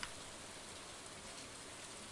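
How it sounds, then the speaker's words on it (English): Steady rain pattering in the Stardew Valley farming video game, a soft, even hiss of falling drops that runs unbroken throughout with no voices over it. "it's raining"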